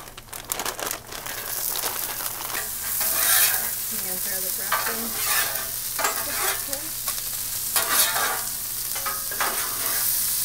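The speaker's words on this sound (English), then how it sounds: "So we're going to go ahead and add some frozen mixed vegetables." Frozen mixed vegetables and Spam sizzle and crackle loudly as they are stir-fried on a Blackstone griddle, with scraping spatula strokes and bursts of hissing steam running throughout.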